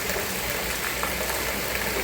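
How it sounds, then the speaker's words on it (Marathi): Heavy night-time cloudburst rain pouring outside, a dense, uniform hiss that stays loud and unbroken throughout with no voices. "पाऊस तर एवढा मोठा चालू आहे बाहेर"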